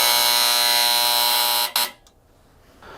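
A loud, steady electronic septic system alarm buzz sounds continuously, then abruptly cuts off, leaving near quiet with a faint hum afterward.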